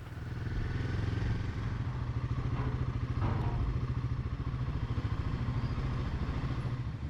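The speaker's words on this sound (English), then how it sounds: "the ferry emerged from the dense mist. It could be heard well before it could be seen." A ferry's engine chugs with a steady, rhythmic mid-low throb near the Isle of Raasay, building slightly as it draws closer through the mist, continuous and fairly quiet with no talking.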